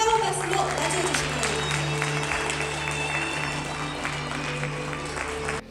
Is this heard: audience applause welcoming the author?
yes